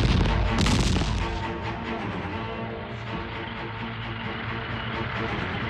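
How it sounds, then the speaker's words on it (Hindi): Artillery fire in a war film about a tank regiment advancing on Longewala, heard as a heavy, continuous rumble of booms and blasts, loudest in the first second and then holding at a dense, steady roar. "समझ गया, इसलिए आर्टिलरी फायरिंग हो रही है टैंक्स की आवाज को दबाने के लिए"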